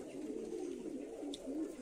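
This year's male pigeons cooing in a loft, a low continuous murmuring coo with a faint click near the end; quiet and close.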